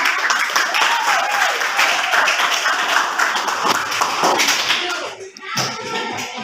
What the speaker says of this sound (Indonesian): kita kasih tepuk tangan sekali lagi untuk kita